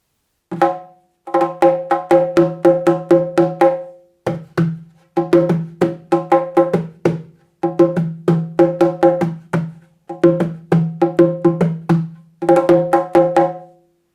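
A high-tuned Nyabinghi repeater drum is struck in quick repeated patterns, bursts of sharp taps with short pauses between phrases.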